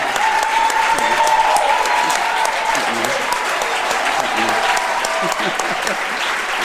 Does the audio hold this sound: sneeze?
no